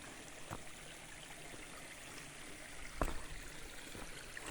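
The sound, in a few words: flowing water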